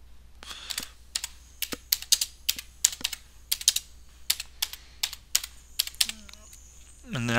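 Keys on a computer keyboard clack in quick irregular bursts while text is typed into a table name field in LibreOffice Writer, close and clear over a quiet room, with faint talk near the end.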